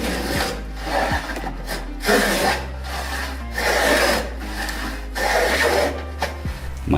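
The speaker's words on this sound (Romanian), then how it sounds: "cu mână se trage profilul" Hand profile plane drawn along a square wooden strip in a joiner's workshop, rhythmic rasping strokes about every second and a half, close and fairly loud, with no voices.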